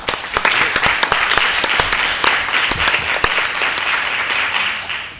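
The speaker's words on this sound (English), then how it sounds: "We'll give them a hand of applause, please." A board of education meeting audience applauds West High School's West Green Club with sustained, crisp clapping from a modest crowd, close and fairly loud.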